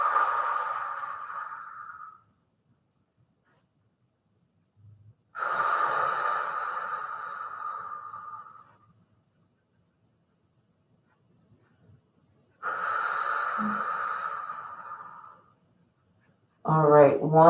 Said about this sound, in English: Big breaths here.